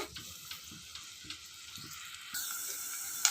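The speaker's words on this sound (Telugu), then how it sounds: "ఆయిల్ హీట్ అయ్యంగానే పచ్చిమిర్చి కరివేపాకు ఉల్లిపాయ అయితే వేసేసుకుందాము" Green chilies, curry leaves and onion go into hot oil for a potato, broad bean and tomato curry, giving a faint, thin sizzle with light taps that grows a little brighter and steadier partway through.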